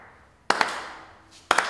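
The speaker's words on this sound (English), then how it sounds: "let's clap our hands" Two sharp, close hand claps from a church congregation starting praise, a pair of quick claps, a pause, then another pair, over quiet room tone.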